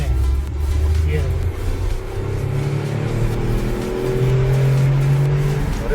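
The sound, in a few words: Tata Nexon 1.2 turbo car accelerating hard in third gear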